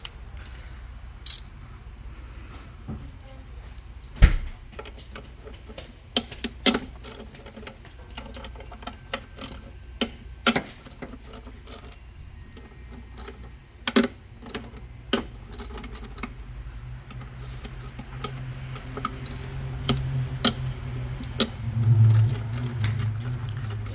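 A 10mm hand wrench loosens the throttle body bolts on a 2005–2012 Toyota Avalon engine, with sporadic sharp metallic clicks and taps over a quiet background and no speech.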